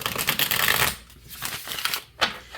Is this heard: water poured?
no